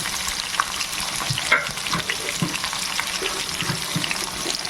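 Rice upma seasoning sizzles steadily in a pan with onions, green chillies and curry leaves, a continuous close frying hiss with faint stirring clicks and no talk.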